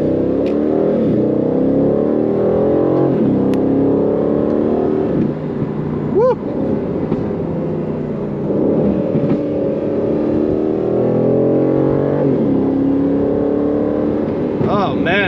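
A 2022 Aston Martin Vantage F1 Edition engine pulls and revs through rising, falling pitch sweeps, loud and close from inside the car, with someone talking over parts of it.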